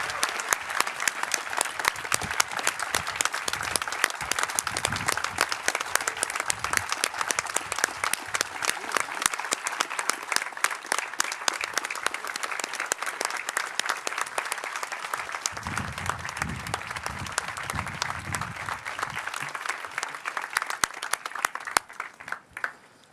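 A crowd at a graduation ceremony gives sustained, dense applause that holds steady for a long stretch, with a few low voices beneath it, before thinning out at the end.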